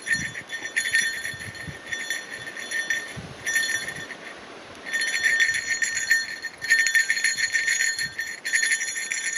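A bell rings steadily while a German Shepherd hikes through a blueberry forest near a marsh, bright metallic chiming in bursts with short pauses, fairly close over soft footsteps and rustle.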